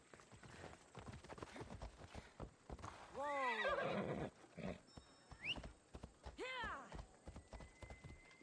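A horse in Assassin's Creed Odyssey, set around Athens, gives two loud, shrill whinnies. Steady clip-clop hoofbeats run throughout.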